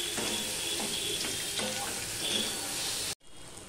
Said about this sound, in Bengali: এবার টমেটোটা দিয়েও আমি ভালো করে কষিয়ে নেব, টমেটোটা যতক্ষণ না নরম হচ্ছে।